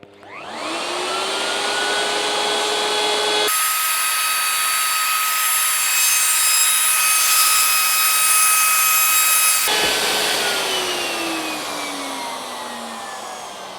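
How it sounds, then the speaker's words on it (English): Router-style power tool whining steadily as its bit cuts through a kitchen worktop, a loud continuous drone that spins up, holds a high pitch for several seconds under load, then winds down. "I've adjusted the length of the bit to just give me that extra few mil that I need to actually cut through"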